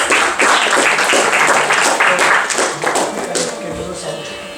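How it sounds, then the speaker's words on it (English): An audience at a classical Indian music baithak claps a round of applause for a young performer, a dense, steady patter of many hands that fades slightly toward the end, with some voices mixed in. "So let's have a round of applause for his performance"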